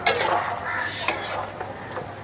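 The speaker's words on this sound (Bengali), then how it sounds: "আলুগুলোকে একটু থেতো থেতো করে নেব, তাহলে ঘুগনির সঙ্গে ভালো করে মিশবে।" Potatoes being mashed in a pan for Bengali-style egg ghugni: scraping, squelching strokes with a few sharp clinks of a utensil against the pan, close up and alone.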